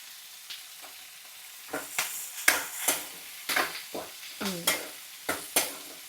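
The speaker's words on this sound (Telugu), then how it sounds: "ఇది కొంచెం వేగనిద్దామండి, పచ్చిమిర్చి బాగా వేగాలన్నమాట." Green chillies frying in a pan for a spicy chutney, a close sizzle broken by a run of sharp, evenly spaced stirring scrapes and clacks, with no talk.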